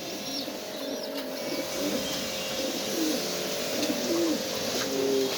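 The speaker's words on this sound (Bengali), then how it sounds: "অনেক কবুতরই আছে দেখেন" Several pigeons at a pigeon seller's in Mirpur, Dhaka, coo repeatedly in soft, rolling phrases, close by, over a steady background hum and faint rustling.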